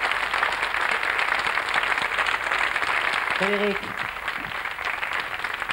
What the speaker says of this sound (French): On applaudit ce souvenir du père.